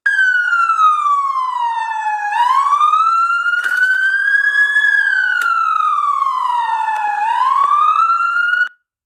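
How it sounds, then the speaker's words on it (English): A police car siren blasts loud and near while driving through neighborhoods, wailing in long rising and falling sweeps, sounding alone. "The police are also driving around neighborhoods, all while having their sirens blasting."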